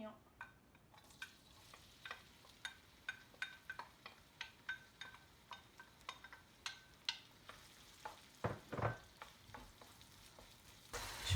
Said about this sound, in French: Un peu d'huile d'olive aussi. Et j'ajoute les oignons.